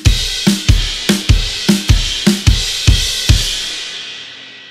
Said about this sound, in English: crash, snare, crash, snare, crash, snare, crash